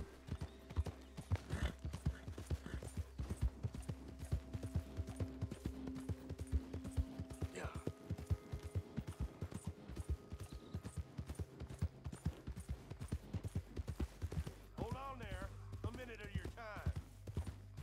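Galloping horse hooves from Red Dead Redemption 2 pound in a fast, steady rhythm throughout, close and prominent, with a brief whinny near the end and someone talking over the action.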